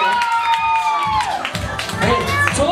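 A live audience at a dance battle event bursts into applause and cheering, loud and sustained, with crowd noise and shouts mixed in over a musical tone throughout.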